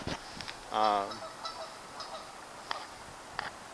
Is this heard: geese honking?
yes